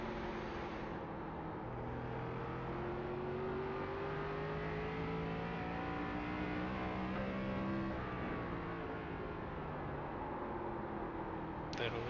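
An ARCA race car in iRacing at USA International Speedway holds a steady engine drone, then its pitch climbs gradually as it accelerates. The sound stays constant and fairly quiet, with a short sharp burst near the end.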